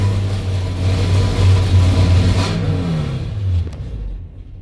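A Ford F450 with a 6.8 V10 engine, starved of fuel pressure, rumbles loudly up close as gas is pressed, surging and labouring unevenly before tapering off and dying down.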